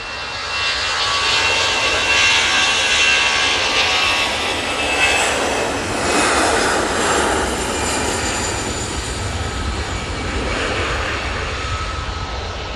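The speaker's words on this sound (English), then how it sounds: "EasyJet is off to Amsterdam Schiphol." An EasyJet airliner departs Manchester Airport bound for Amsterdam Schiphol, a broad jet roar swelling and fading slightly as it passes, loud and alone with no voices.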